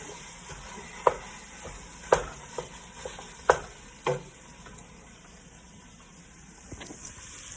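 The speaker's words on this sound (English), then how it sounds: "So this is the initial phase of the pork cooking." Ground pork sausage frying in a pan gives a steady low sizzle, broken by several sharp clinks and scrapes of a utensil stirring the meat, with no talking.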